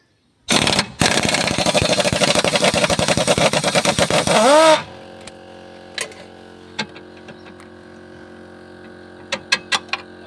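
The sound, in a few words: rattle gun undoing lower control arm bolts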